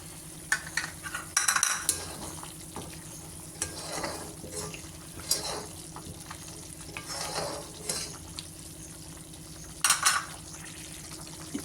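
Thick tamarind paste cooking in oil for puliyogare, with intermittent stirring scrapes and soft bubbling sizzle, near and fairly quiet, with a few sharper clatters of the spoon against the pan.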